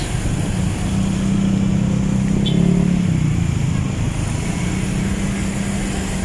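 Steady road traffic on EDSA near Ortigas in Metro Manila, a continuous close engine rumble with a low droning vehicle hum swelling mid-way, no talk over it.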